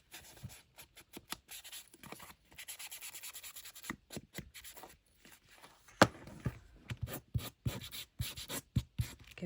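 Hand sanding along the folded hinge edge of a hidden bookcase coated in ground espresso, producing soft, steady rubbing strokes in quick bursts, close and fairly quiet, with no talking.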